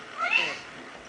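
A cat gives a single loud, drawn-out meow close by, facing off against a St. Bernard, with no talking heard.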